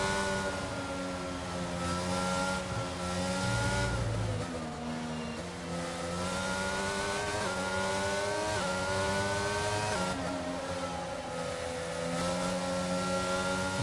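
Racing cars in a sim race at Bahrain pull away from the start line, engines revving high and shifting up through the gears in a loud, continuous roar with layered whines from several cars.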